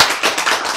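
Audience clapping during a Korean lecture on epigenetics, a brief burst of dense, fairly close hand claps that rises and dips for under a second with no talk over it.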